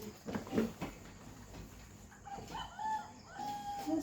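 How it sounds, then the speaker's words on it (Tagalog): A rooster crows at a distance on a pig-raising farm, drawn-out calls rising and falling, with a few nearer clucks and knocks earlier on, all fairly faint. "Tugtugaok na lang ang manok do"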